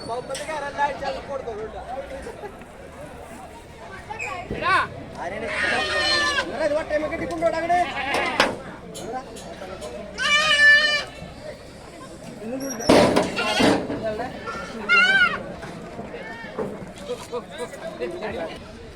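Goats bleat several times in short wavering calls at an outdoor goat market, mixed in with people chattering and moving around.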